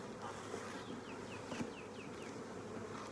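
Honey bee swarm being shaken into a new hive, a steady low insect buzz filling the whole stretch with a few brief louder bumps, no talking.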